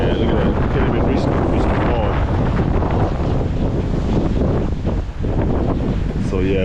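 Heavy wind buffets the microphone outdoors at a church during pressure washing, a loud constant roar that fills the whole clip, with faint voices underneath.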